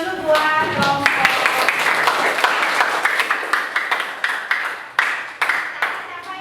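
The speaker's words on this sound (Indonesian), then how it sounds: "ini tepuk tangan dulu buat kelompok" A class of students claps for a student group in a classroom, with irregular close hand claps spread over several seconds and a little talk mixed in.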